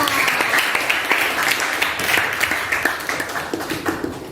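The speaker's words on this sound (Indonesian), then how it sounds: "tepuk tangan untuk Aditya" Students in a Jakarta high school classroom clap for a classmate, their close, fairly loud applause showing distinct individual claps within a lively patter that eases slightly toward the end.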